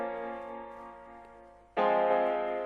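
Sustained layered keyboard chords from a Nexus synth, a soft synth-piano tone that swells louder as a new chord enters partway through, played alone.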